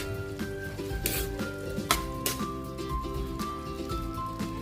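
Sautéed chayote being stirred in a frying pan with a little pepper, giving a steady sizzle with scraping utensil strokes against the pan, a few sharper clatters standing out, and no one talking.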